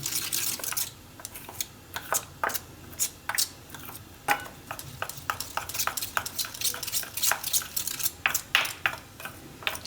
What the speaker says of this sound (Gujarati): તો એકદમ અસલ અંદર ગાંઠા ના રહે એ રીતે મિક્સ કરી લેવાનું.